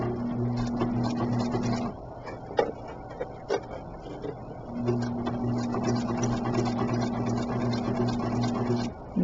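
A sewing machine stitches face mask ties in two steady runs of fast mechanical whirring and hum, separated by a pause of a few seconds with light clicks and handling.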